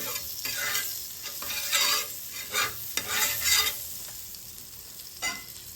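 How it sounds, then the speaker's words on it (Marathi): A paneer frankie roasts in Amul butter on a hot tawa over low heat, giving a soft steady sizzle broken by intermittent scraping and turning sounds, close and quiet with no talking. "आणि आपण जे आता फ्रँकी असेंबल केली आहे ती आपल्याला ह्यावरती छान शेकून घ्यायची."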